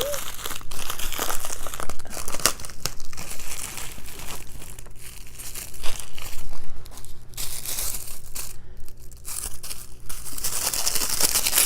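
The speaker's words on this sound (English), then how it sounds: "The tissue paper was not coming off." Tissue paper crinkles and rustles steadily up close while an item from a fashion subscription crate is unwrapped, with a few sharper tearing crackles along the way and no talk.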